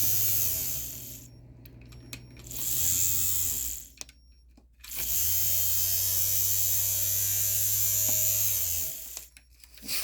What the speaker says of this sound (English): The motor does seem to be turning good.